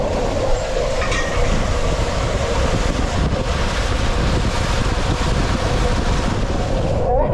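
Rushing water and wind blast continuously while riding the Liquid Lightning tube waterslide at Lagoon-a-beach in Farmington, Utah, a loud, close, unbroken roar throughout.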